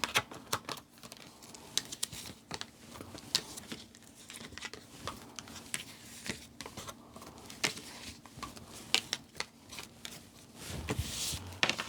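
Tarot cards shuffled by hand, making a steady crisp patter of riffling and flicking paper, close and fairly soft, continuing throughout without talk.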